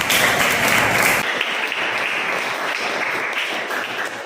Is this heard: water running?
no